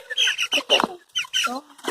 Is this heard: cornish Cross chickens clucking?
yes